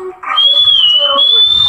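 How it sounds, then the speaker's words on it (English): A person whistles forcefully while playing Clash of Clans, a sustained high, steady tone held for over a second with a slight dip midway, loud and close with faint background noise. "Look how hard I whistle."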